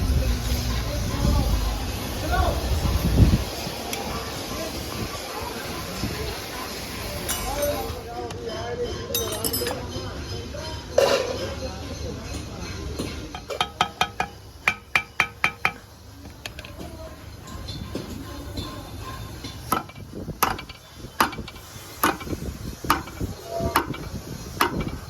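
Metallic clinks and ratcheting taps as bolts are loosened on the engine chamber of a 1979 Royal Enfield Bullet 350 during restoration, scattered and irregular under someone speaking, with steady background hiss.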